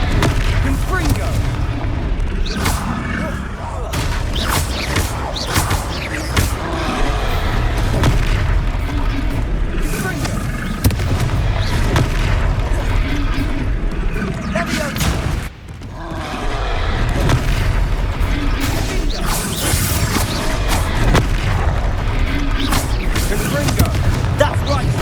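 Blast spells in Hogwarts Legacy on PS5 go off in heavy, booming explosions amid continuous loud battle noise and game sounds, with a voice shouting in the mix.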